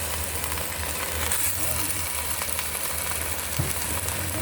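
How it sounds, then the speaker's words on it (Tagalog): Cabbage sautés with canned sardines in a pan, a steady close sizzle and frying hiss that runs throughout, with faint talk and a light knock from stirring near the end. "ginisang repolyo ating niluluto"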